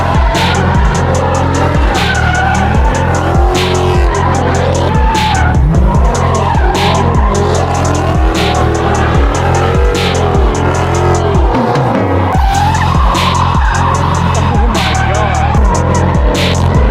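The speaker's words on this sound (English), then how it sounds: "Everyone's revving their things under the tunnel right now." Several cars at a night car meet rev their engines hard inside a tunnel, loud echoing roars and sharp bursts stacking up continuously with screeching tire squeal, while voices shout faintly underneath.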